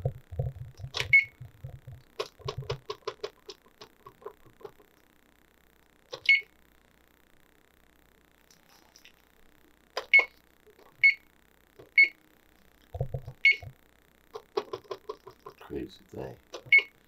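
A kitchen timer beeps in short, sharp electronic chirps, single and in small clusters with quiet gaps between, as it is set for an oven bake; a voice speaks briefly at points.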